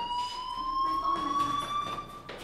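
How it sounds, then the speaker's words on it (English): A fire alarm rings in the video game Life is Strange, a steady electronic tone with pulsing beeps that carries at moderate loudness for the whole stretch, with no voices over it. "do you hear that fire alarm?"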